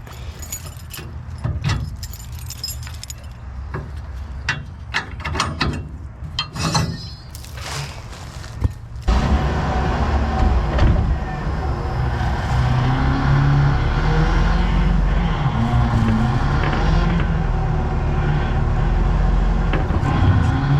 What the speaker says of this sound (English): I'm going to pull my trailer hitch off so I can go back a little bit further.